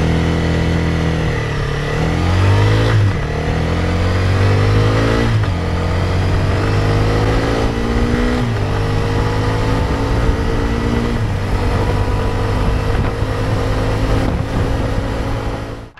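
Honda CRF 300L Rally motorcycle cruising onto a highway, engine droning loud and near with repeated rising revs between gear changes, steady wind rush beneath, no voices.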